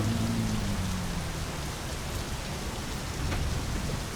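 Steady rain patters in the My Summer Car driving game, a dense, even hiss of drops with a low engine drone underneath.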